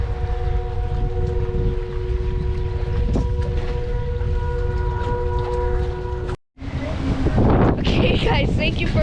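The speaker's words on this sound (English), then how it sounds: "And the tornado sirens are going off again." Tornado sirens wail during a severe storm at a catfish tournament, heard as a steady tonal drone over heavy wind and rain noise; the sound cuts out briefly, then windy roar and nearby commotion return.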